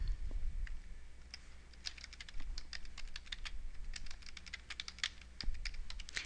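Rapid, irregular clicking of keys on a computer keyboard, steady typing close by with short pauses, over a faint low background hum.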